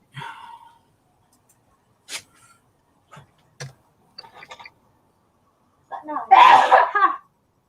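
A single close, sharp sneeze bursts out after scattered soft clicks and brief mouth noises in a quiet indoor room.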